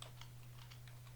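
Faint, quick keystrokes on a computer keyboard while Java code is entered, a soft rapid patter over a steady low hum.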